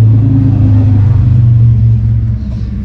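A Harley-Davidson motorcycle engine rumbles loudly in a deep, steady drone that swells as it goes by, then eases slightly as it moves off.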